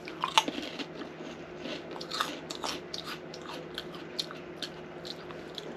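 Crunching bites into a crab-flavoured Japanese snack that smells like prawn crackers, a series of close crisp crunches and chewing sounds over several seconds with no talking.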